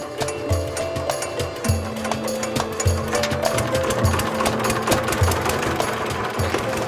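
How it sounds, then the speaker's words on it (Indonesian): A motorized chopping machine shreds dried water weeds for compost at a green school, giving a loud, continuous mechanical rattle and hum with rapid repetitive clatter throughout and no voices. "sekarang kita lakukan tindakan selanjutnya, yaitu dengan mencincang gulma air tersebut menggunakan mesin ini"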